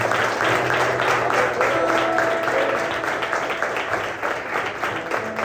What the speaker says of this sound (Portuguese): louvem com as palmas